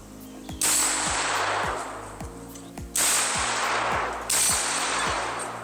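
A pistol fitted with a Feyachi G35 green laser fires three loud, sharp shots a second or more apart, each followed by a long ringing decay, with no talking.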